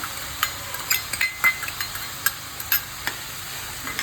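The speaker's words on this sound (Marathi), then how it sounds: "आणि आता आपण टाकूया याच्यामध्ये 1 वाटी मुगाची डाळ।" Soaked mung dal stirred into okra in a pan: a spoon scrapes and clinks against the pan in quick irregular strokes over a soft sizzle, close and fairly loud.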